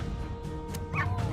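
Hellhounds in the Master of Magic strategy game let out two short synthetic barks near the end, over a steady droning game soundtrack.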